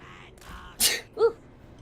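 A single sharp human sneeze bursts out close and fairly loud against a quiet background, followed a moment later by a short voiced exclamation.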